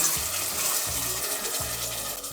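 Grated tomatoes stirred in a hot frying pan for shakshuka meze, a steady close sizzle with soft scraping strokes of the spoon repeating about every half second.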